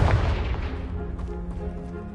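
A Confringo spell explosion in Hogwarts Legacy, a loud booming blast right at the start that decays into a rumbling tail with debris-like clatter over about two seconds.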